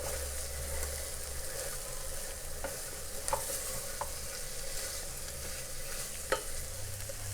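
Sprouted mixed legumes are stirred in spiced oil in a pan. A quiet, steady sizzle runs throughout, with a few sharp scrapes and clinks of the spoon at irregular moments.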